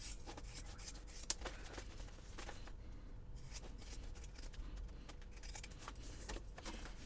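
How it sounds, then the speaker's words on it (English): Scissors snip and rub against sewn fabric while a purse pocket is trimmed, producing a series of short, quiet, close-up cuts and rustles with no speech. "Now I want to trim down my pocket."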